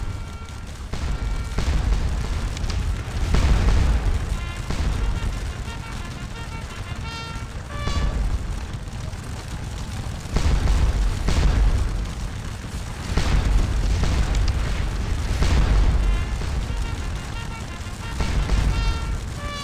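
Cannon fire in the Napoleonic battle game Scourge of War: Waterloo, with deep booms repeating every few seconds over a constant rumbling battlefield din and scattered crackling shots.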